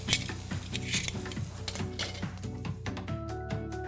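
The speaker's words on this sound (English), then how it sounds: "the pork steak's been cooking for another 2 minutes" A pork loin steak sizzles steadily in a hot frying pan, a continuous close crackle with occasional utensil clinks, heard under background music.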